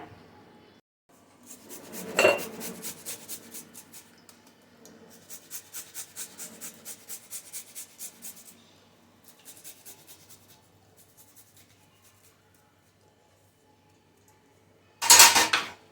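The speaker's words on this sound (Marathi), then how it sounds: "हे आलं किसून घालूया" Fresh ginger being grated by hand in a home kitchen for vegetable cutlets: bursts of quick, rhythmic rasping strokes with faint metallic scraping, close and fairly soft, ending with a sharp clatter.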